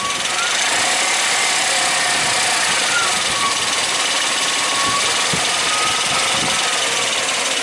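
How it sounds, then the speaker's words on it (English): A 2002 Suzuki XL7 V6 idles steadily up close, with a busy mechanical clatter from a worn timing chain tensioner running continuously through the whole stretch. "it's got the infamous timing chain tensioner rattle issue"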